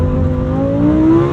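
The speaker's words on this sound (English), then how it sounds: "Do a launch control." Lamborghini Huracan STO launching hard under launch control, its engine noise loud and close in a continuous rising drone as revs climb steadily through one gear with no break, and no one speaking over it.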